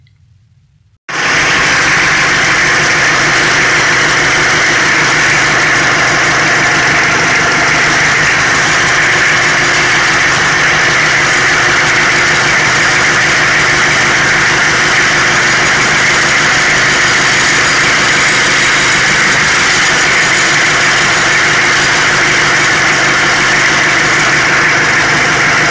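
A mining haul truck's engine, after a steering repair at a hard rock gold mine, starts abruptly and then runs steadily, a loud, close, continuous rumbling drone with no talk.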